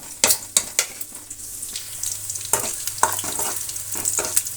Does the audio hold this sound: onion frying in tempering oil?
yes